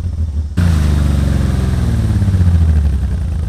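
A BMW car's engine labors off-road on a slow crawl for traction, one of its tires flat, cutting in abruptly after a faint lull and then holding a loud, steady low rumble with rising and falling revs, close to the microphone.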